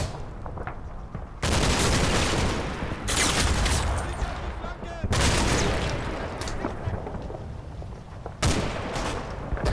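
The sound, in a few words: automatic gunfire in Combat Mission: Battle for Normandy video game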